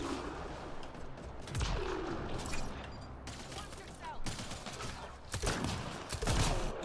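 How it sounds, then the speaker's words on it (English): Explosions and gunfire in the Mass Effect: Andromeda multiplayer game, several sharp blasts and crackling bursts spread across the clip, loud and layered under a steady background of combat noise. "Oh wow, look at all the explosions."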